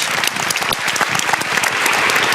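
Loud, dense applause from a humanitarian conference audience thanking panelists, many hands clapping steadily and close, filling the room throughout.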